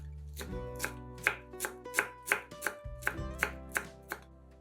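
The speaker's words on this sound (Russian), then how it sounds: "Пучок петрушки измельчаем ножом." A bunch of parsley is chopped with a knife on a board in about a dozen evenly spaced, crisp strikes, close and clear with no talking.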